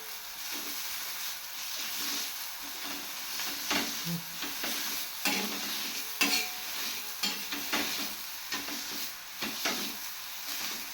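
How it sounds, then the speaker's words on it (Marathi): Vegetable curry being stirred in a pan as it cooks, with a soft steady sizzle and intermittent scraping stirs repeating at an uneven pace, fairly quiet and without voices. "भाजीत पण मीठ टाकायचं आहे हलवते आणि बंद"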